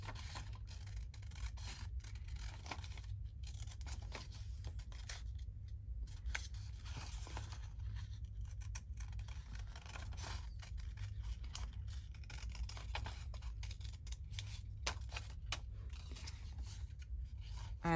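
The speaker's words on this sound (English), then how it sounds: "I'm moving my scissors, but I'm moving my paper more than my scissors." Scissors snip steadily through paper, slowly cutting a curved shape for a floral page, heard as a close, quiet, continuous rasping scrape over a low hum, with no voices.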